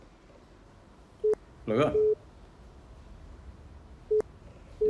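A telephone busy signal while calling a number, short evenly spaced beeps heard faintly through a handset, with someone briefly speaking over the tones in a quiet room.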